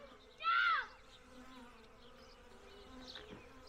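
Bees buzzing close by during hive installation of bee packages, one loud droning pass rising briefly over a low, steady hum of more insects in the background.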